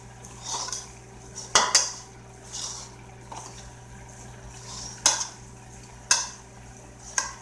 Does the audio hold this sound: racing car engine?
no